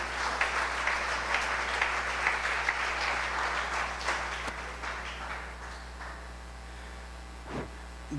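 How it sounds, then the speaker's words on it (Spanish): Church congregation applauding during a Sunday morning Spanish-language sermon, a dense wash of clapping that holds steady for several seconds, then thins and fades out near the end. "¿Cuánto le dan un aplauso a Dios en esta mañana, a Cristo?"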